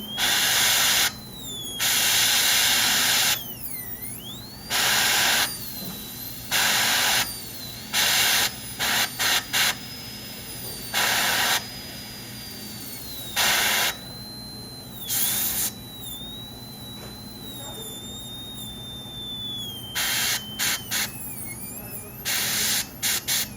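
A high-speed dental burr drilling teeth to prepare porcelain veneers with lingual chamfer margins: repeated loud, shrill whining bursts of a second or two, starting and stopping with a pitch that dips as the burr loads, with faint hiss between.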